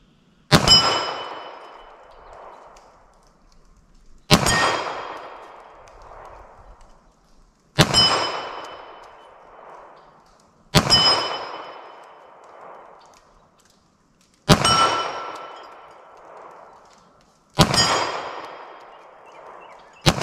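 Six sharp 9mm pistol shots from Hornady Critical Duty ammunition fired through a long-slide pistol in a ballistic test, spaced about three seconds apart, each a loud crack with a ringing metallic decay.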